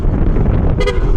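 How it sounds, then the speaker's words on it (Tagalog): A short double honk from a Yamaha Aerox V3 motorcycle's original Piaa horn, two quick loud toots close by, over a steady engine rumble. "Yun, yung tunog ng Pia horn na original."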